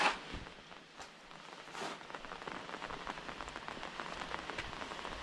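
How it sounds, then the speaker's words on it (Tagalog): Steady rain begins falling on surfaces outside a house under construction, a dense, even patter of drops that grows slightly fuller over several seconds with no voices. "Kaumpisa lang ng ulan."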